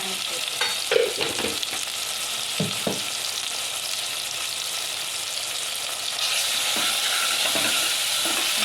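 Cumin seeds frying in oil for a spring onion curry, a steady close sizzle with a few scraping stirs early on, the sizzle turning louder and brighter near the end.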